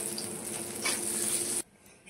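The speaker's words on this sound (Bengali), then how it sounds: "আর এদিকে বেগুনটাও ভাজা ভাজা করছি" Eggplant pieces frying in hot oil for a mustard eggplant hilsa curry give a steady, close sizzle that stops abruptly near the end, with no talking.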